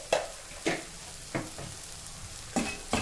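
Spiced dry peas with coriander powder and salt are stirred in a pan: a low background sizzle with five or so sharp spatula scrapes at irregular intervals, close and clear.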